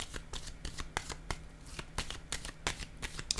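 Playing cards being drawn and handled during a card reading, a quick run of crisp riffling snaps and flicks, close and fairly quiet, with soft talk faintly beneath.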